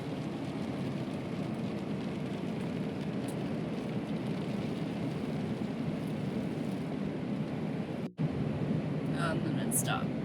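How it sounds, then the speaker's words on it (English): Steady rain falls in Idaho on a cold day, a dense even hiss that fills the whole stretch. It breaks off for a split second near the end, and a few faint higher ticks and chirps follow. "we're just gonna enjoy this rain."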